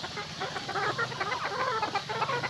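A few farm chickens cluck nearby in quick, irregular bursts, overlapping calls forming a lively chatter without any talking.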